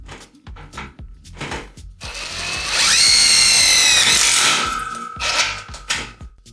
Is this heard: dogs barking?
no